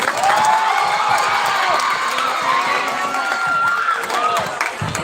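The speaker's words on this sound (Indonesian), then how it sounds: "Sebelumnya tepuk tangan dulu untuk Rizzy" A school talk-show audience of students applauds and cheers for a classmate, a loud, sustained crowd roar with clapping, shouts and whoops, close and continuous throughout.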